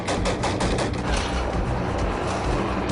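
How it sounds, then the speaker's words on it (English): Heavy gunfire in an Iraq street firefight, with dense overlapping bursts of shots and rattling automatic fire that stay loud and continuous the whole time. "an Iraqi army unit assisting the search takes heavy fire"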